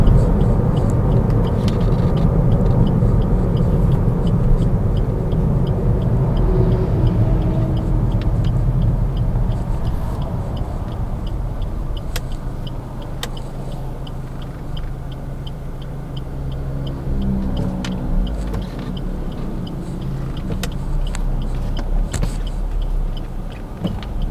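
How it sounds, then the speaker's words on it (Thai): A 2016 Suzuki Ciaz 1.2 GL sedan drives and swings through a U-turn, heard from inside as a steady low engine and road rumble that eases slightly through the turn. "เดี๋ยวเราจะยูเทิร์นกันนะครับ จะดูวงเลี้ยวครับว่าคันนี้วงเลี้ยวจะ กว้างหรือแคบขนาดไหนนะครับ"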